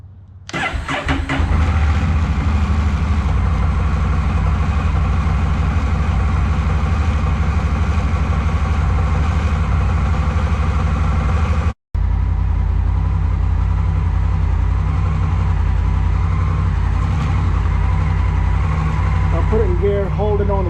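A 2021 Honda Rebel 1100 DCT motorcycle engine starts after an oil change and settles into a loud, steady idle close by, with one brief cutout midway and a small throttle blip near the end.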